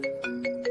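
An electronic phone ringtone plays a short repeating melodic pattern of bright tones, four pulses in quick succession, clear and moderately loud.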